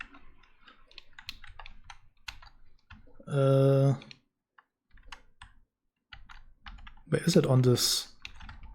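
Quick, light clicks of a computer keyboard patter in an irregular run, close and crisp, pausing briefly and resuming, while a person speaks a few words and loud tonal electronic bursts sound twice.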